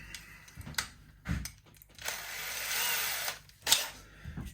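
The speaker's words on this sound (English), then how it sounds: "let's drill these down." A power drill whirs in several short bursts, then runs in one longer spell, with quiet pauses in between, drilling into a Fender Telecaster guitar body for the bridge.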